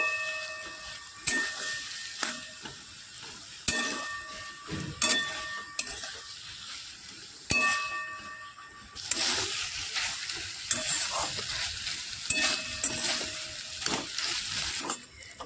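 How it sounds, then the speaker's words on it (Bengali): Cabbage patori sizzling in a pan over low to medium heat, with repeated stirring scrapes and clatters against a steady frying hiss that swells louder in the second half, no talking. "প্রায় পাঁচ মিনিট আমি এই একই রকমভাবে নাড়াচাড়া করে বাঁধাকপির পাতুরিটা তৈরি করে নিয়েছি"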